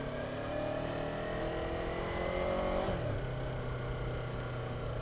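A Yamaha R3 motorcycle ridden on the road, its engine droning steadily with wind noise, then pitch dips briefly partway through as it shifts gear and carries on.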